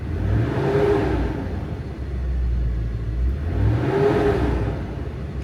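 A Land Rover Discovery II with an LS engine swap revs up twice close by, each loud rumbling climb in RPM easing back down to a steady idle in between.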